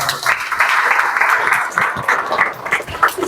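Applause from an audience at a Ram Navami festival gathering at a temple and math, dense crowd clapping filling the whole stretch, loud and sustained with slight swells.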